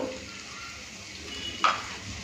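Spice paste fries in oil with a low, even sizzle close by, and a single utensil clink stands out near the end.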